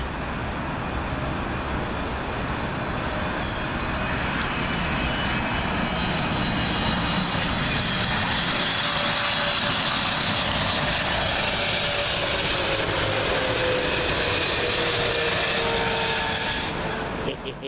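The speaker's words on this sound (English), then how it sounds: "American Airlines 777 coming in from JFK." An American Airlines Boeing 777 landing on runway 27L at Heathrow roars loudly overhead, its engine noise swelling and holding with a shifting whine, then easing slightly at the end.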